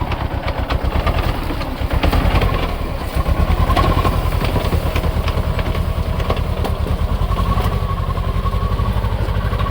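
Close diesel chugging of a Mahindra Yuva 225 4x4 tractor working a wet sugarcane field, a loud steady rapid pulse of exhaust beats with a brief dip and a rise in load, and no voices.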